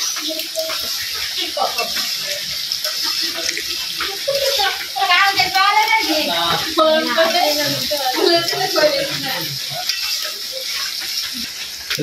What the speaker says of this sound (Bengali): মাংস তো যত কষানি যায় ততই ভালো